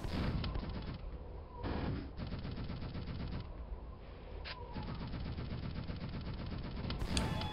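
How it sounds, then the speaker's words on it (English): Rapid gunfire from a super nailgun or shotgun in Quake single-player combat, dense repeated shots and impacts running steadily throughout, loud and close with brief lulls. "The player here just ends up sniping them off with either a super nail gun or, you know, a shotgun or something."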